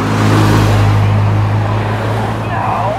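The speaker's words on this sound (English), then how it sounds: "These poor people are driving by, missing this whole thing." Road traffic passes nearby, a loud continuous low rumble of cars that fills the whole moment with steady wideband noise and no clear gaps.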